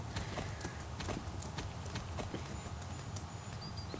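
Horse hooves clip-clopping steadily in the horse-riding video game Star Stable, a Friesian horse, with a continuous rhythmic trot over game ambience and faint chirping.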